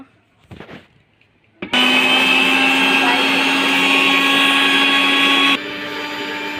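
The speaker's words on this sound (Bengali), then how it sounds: "এখন ব্লেন্ডার করব" An electric blender grinds black and white peppercorns with garam masala, starting abruptly after a short voice and running as a loud, steady whir for about four seconds before cutting to a lower hum.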